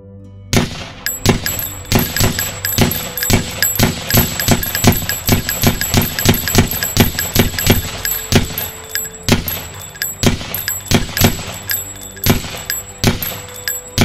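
Sharp, loud gunshots ring out during a school shooting drill in a steady rapid series, dozens of evenly spaced cracks with a brief pause near the end.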